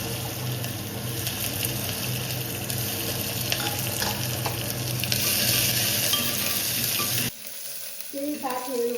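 Chopped onion sizzles and fries steadily in hot oil in a pan for a karkalo curry, a dense continuous crackle with occasional stirring, cutting off abruptly near the end before a faint resumption.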